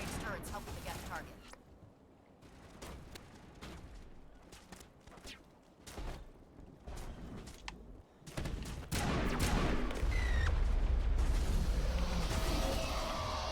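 Sustained crossfire in the Mass Effect video game, with scattered shots and bursts early on that swell into a dense, loud barrage of gunfire and blasts in the final seconds.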